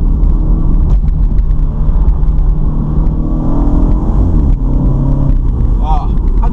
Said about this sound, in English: those upshifts and downshifts, boom, boom, boom